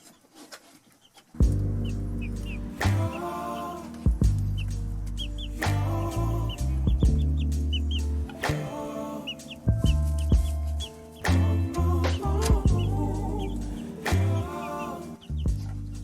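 Farm chickens cluck and call close by, with repeated overlapping clucks and squawks running steadily throughout and no talk.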